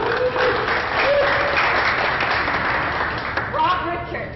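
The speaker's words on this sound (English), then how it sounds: "Please give Presley a big round of applause" Audience at a North American snooker qualifier applauding Presley, a short burst of dense clapping that holds steady and then tapers off, with voices talking over it.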